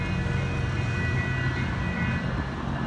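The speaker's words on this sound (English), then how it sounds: "It's the slowest train in the world." A slow city train rolls along its tracks with a steady low rumble and a faint whine, even and continuous, with no talk over it.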